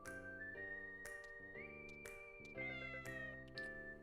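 A cat in the video game Fantasy Life i meows several times over a steady tonal music bed, with sustained tones and small bright accents and no voices.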